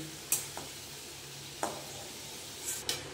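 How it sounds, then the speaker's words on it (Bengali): Carrot pieces frying red in oil in a pan make a low, even sizzle. Three or four sharp clinks and scrapes of a utensil cut through as they are lifted out. No voices. "বন্ধুরা এবার গাজরগুলো ভেজে তুলে নেবে"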